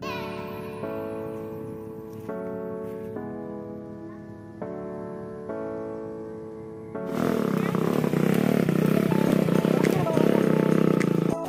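A Honda TMX Skylab habal-habal single motorcycle hauling logs in Surigao. Steady tonal sound with voices comes first, then a loud, broad engine roar takes over and holds to the end.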